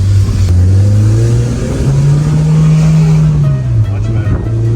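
A Honda Civic Type R FD2 on a test drive after repair: loud engine drone inside the cabin, revving up, holding a steady pitch, then easing off, with a voice faintly under it.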